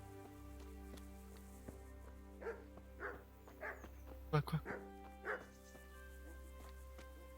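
A dog yips and whimpers in short bursts inside the medieval game Kingdom Come, several brief cries spread over a few seconds above a steady low hum, with a voice speaking briefly.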